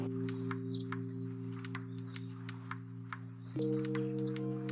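A recorded bird song: six short, bright whistled chirps repeat at even intervals over a steady low electrical hum.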